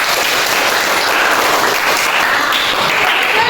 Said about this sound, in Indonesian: Tepuk tangan untuk Erin.